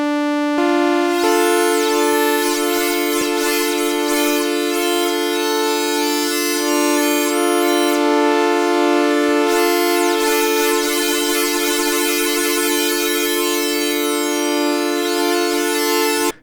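Arturia PolyBrute synthesizer sounds a bright, sustained, buzzy chord. Inside the held tone, separate notes sweep through in sequence, loud and continuous for about sixteen seconds, with no voices.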